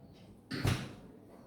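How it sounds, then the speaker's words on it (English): A single door on a large, fridge-sized three-door dehydration machine closes with one short, solid thud and a brief rattle, heard close by in a quiet room. "Let me close the door for you to see."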